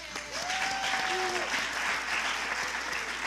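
An audience at a documentary screening in Newark applauds the evening's sponsors, a sustained, even round of clapping under a faint murmur of voices.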